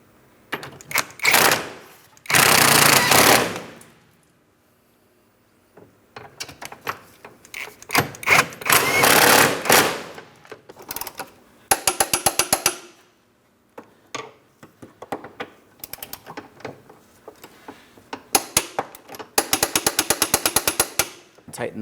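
Subframe bolts on a 2004-2008 Pontiac Grand Prix being run down and torqued to spec, in several bursts of rapid, loud impact or ratchet rattling separated by short quiet gaps, close to the listener.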